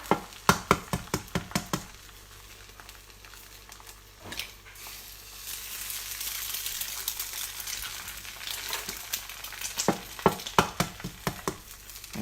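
Eggs fry sunny side up in a pan with a steady sizzle, and sharp knocks and scraping stir sounds come at the start and end, close by with no talk.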